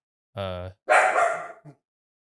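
A dog gives two short, close barks, the second one longer and rougher, in a quiet room with a brief yip after them.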